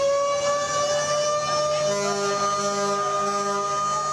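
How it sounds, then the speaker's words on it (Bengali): Launch ships sound their sirens at Sadarghat terminal: loud, sustained tonal blasts that overlap, with a second lower siren joining partway through over steady ambient noise. "সাইরেন বাজিয়ে সদরঘাট লঞ্চ টার্মিনাল থেকে ছেড়ে যায় একের পর এক লঞ্চ"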